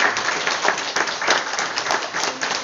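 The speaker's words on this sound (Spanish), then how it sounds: "un fuerte aplauso para despedir a estas niñas" Audience applause sending off a group of young girls at a preschool event, a dense steady wash of clapping from a crowd that holds at a fairly even level for a few seconds.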